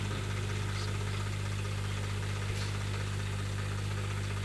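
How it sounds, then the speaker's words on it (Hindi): A vehicle engine idles with a steady, unbroken low hum and faint vibration, close and constant throughout, with no one talking. "गाड़ी है"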